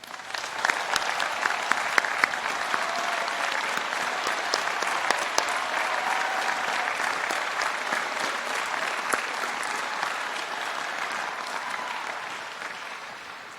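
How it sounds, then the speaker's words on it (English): Applause from a large crowd for the musicians at a university commencement ceremony, a sustained dense clapping roar lasting over ten seconds before slowly thinning out at the end. "would you please join me in giving our musicians a round of applause?"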